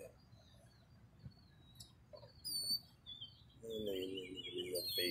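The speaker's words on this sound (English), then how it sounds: "Beautiful northern mockingbird up there. That's what you hear." Faint, varied northern mockingbird chirps and whistles come and go over quiet outdoor background, growing into a more continuous warbling song near the end.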